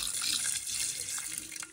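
A kitchen sink tap runs close by as raw chicken is rinsed under it, a steady hissing splash that shifts with the handling, then thins out near the end.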